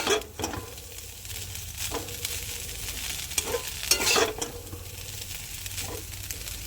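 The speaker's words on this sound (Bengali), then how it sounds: "আমি ভালো করে নাড়া দিয়ে নেব এগুলো দিয়ে ভালো করে মিশিয়ে নেব" Potato chowmein ingredients stirred together in a pan over heat: a continuous crackling sizzle with repeated scraping strokes of the spatula at irregular intervals, close and fairly loud, with no talking.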